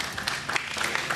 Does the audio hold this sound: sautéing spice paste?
no